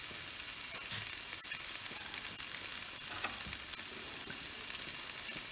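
Pork chops frying in a pan with a pat of butter and a little oil, a loud, dense, continuous sizzle close up with faint crackles and no talking.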